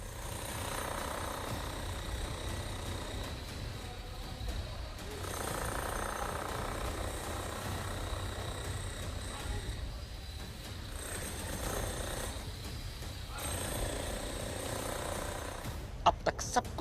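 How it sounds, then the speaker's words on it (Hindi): A drilling machine chews into a concrete factory floor with steady, rattling jackhammer-like pounding, fairly distant and sustained, pausing briefly a few times, with a couple of sharp knocks near the end. "एक मजदूर कारखाने के अंदर इस जगह फर्श पर ड्रिलिंग मशीन से खुदाई शुरू करता है"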